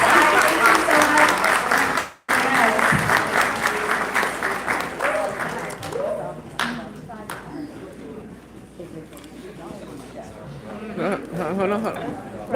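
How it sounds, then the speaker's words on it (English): An audience at a community environmental dialogue claps for a mayoral candidate, dense applause that fades and thins into scattered claps while people chatter and a voice speaks. "Mr. Valens, a round of applause for coming to speak to the Southwest side."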